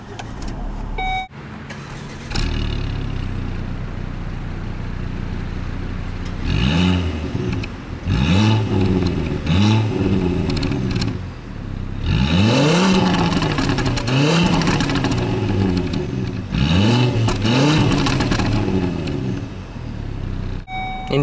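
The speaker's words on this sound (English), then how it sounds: "Engine starts right up." A 2012 Volvo S60 T5 engine starts up by push button close by, then idles with a steady rumble while it is revved several times in rising and falling swells.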